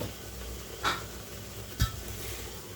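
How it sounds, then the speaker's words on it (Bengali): Chili and spice paste sautés in a pan for a dish of dried fish and taro stolons, giving a soft, steady sizzle with two brief spatula clinks against the pan, no one talking. "এই যে এটা একটু মরিচ মশলাগুলো একটু ভালো করে কষিয়ে নিই"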